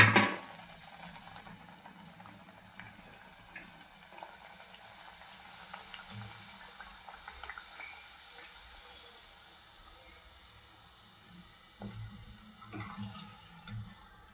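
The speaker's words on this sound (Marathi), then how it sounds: "आता आपण ह्या कचोरीला फ्राय करून घेऊ तेलामध्ये" Kachori fries in hot oil in a wok, giving a quiet, continuous sizzle and bubbling hiss that holds steady with occasional soft pops.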